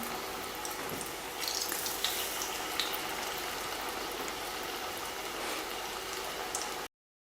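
Cassia tora leaf masala vadas frying in hot oil, a steady, soft crackling sizzle running evenly throughout before cutting off abruptly at the end.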